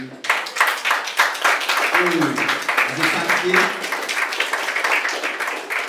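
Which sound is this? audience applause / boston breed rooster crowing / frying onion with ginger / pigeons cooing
audience applause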